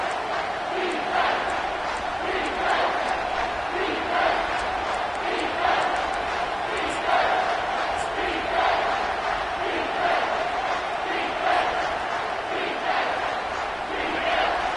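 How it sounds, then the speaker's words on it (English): A home crowd roars in the College Football 25 video game during a Michigan vs Michigan State matchup as the defense faces third down; the steady, dense stadium noise swells in waves and fills the whole stretch with no voices above it. "Here comes this home crowd as the defense tries to get off the field on third down"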